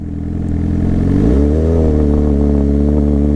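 A motorcycle on a hill starts close and loud, then the engine note rises in pitch as the clutch is let out and the bike pulls away, settling into a strong, steady drone.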